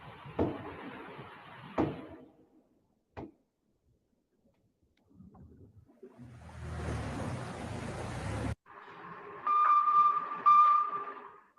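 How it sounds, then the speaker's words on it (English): Recorded knocking and banging linked to the Titan submersible lost in the ocean, a few sharp isolated thuds separated by silence, then a long washing, surf-like noise and a final stretch of clattering with a thin ringing tone. "This is what they're saying it is. This is a knocking."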